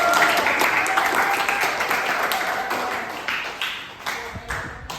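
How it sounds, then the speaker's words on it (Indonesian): A classroom group claps together after a micro-teaching lesson, making a dense, fairly loud patter that gradually thins out into scattered claps toward the end. "Aplaus dulu dong"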